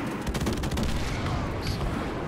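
Rapid gunfire in the Call of Duty video game, a dense, continuous volley of shots with booms, loud and close throughout.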